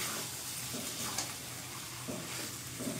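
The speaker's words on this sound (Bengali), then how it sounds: "এখন মাংস দিয়ে আমি একদম ভালো করে কষে নেব।" Mutton pieces sizzle and fry in a hot pan as they are stirred and sautéed, a steady close crackle with soft scraping strokes and no talk, village-style cooking.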